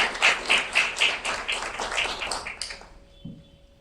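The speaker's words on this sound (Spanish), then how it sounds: "Damos un fuerte aplauso a nuestro primer panelista." A small audience at a cultural panel discussion claps for the first panelist, a few rhythmic, close claps that fade out after about three seconds, leaving near quiet.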